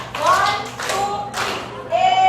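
An audience clapping in unison at the end of a training session, a few sharp bursts of hand claps separated by short pauses, with voices in between.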